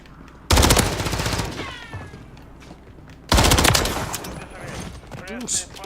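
Gunfire in Call of Duty MW3 multiplayer ranked play: two loud, dense bursts of rapid automatic fire, each lasting about a second with a trailing rattle, separated by quieter game ambience.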